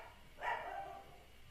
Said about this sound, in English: Rory, stop with the barking.